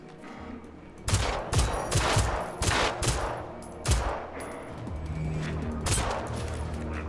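Enemies in a shooter video game fire back in repeated loud bursts of automatic gunfire, with sharp cracks every second or so over a constant roar of battle noise.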